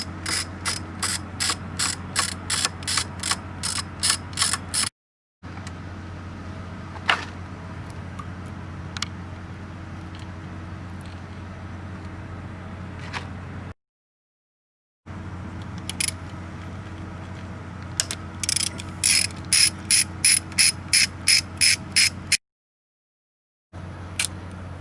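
A ratchet wrench with a quarter-inch drive and universal joint works a bolt on a Yamaha 250hp outboard, with rapid close clicking bursts separated by pauses and brief silent gaps.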